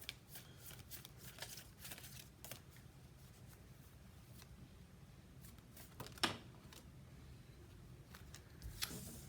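Tarot cards shuffled and handled at close range, soft quiet riffles and slides with occasional sharper snaps, low and intimate with no talking.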